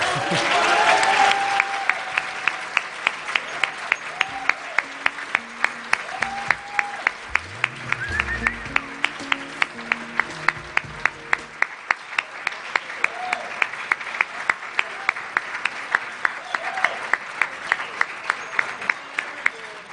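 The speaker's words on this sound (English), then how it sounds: "Please applaud for these families." An audience claps for several families standing before them, a long, even wash of many hands. A low voice and some murmuring run beneath it partway through.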